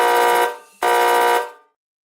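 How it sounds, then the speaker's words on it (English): Two loud, harsh electronic buzzer blasts used as a sound effect, the first about three-quarters of a second, a brief gap, then a second of similar length that cuts off abruptly, with no other sound around them. "I have a buzzer that goes like this."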